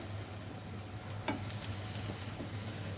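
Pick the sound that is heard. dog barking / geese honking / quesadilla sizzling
quesadilla sizzling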